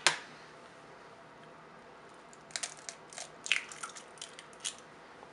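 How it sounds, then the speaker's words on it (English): An egg is cracked for egg drop soup in a home kitchen: a sharp tap of shell up front, then a quiet scatter of small crunches and clicks as the shell is pulled apart. "crack 1 egg"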